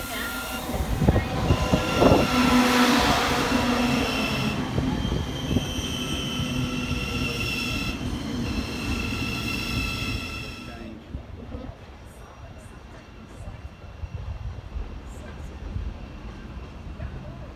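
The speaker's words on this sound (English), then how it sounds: "This train is formed of 8 coaches, calling it London King's Cross only." An eight-coach passenger train at Finsbury Park station, London, rolling and braking along the platform; loud broadband rail rumble and squeal fill the first ten seconds, then fade as the train slows, with station announcements heard over it.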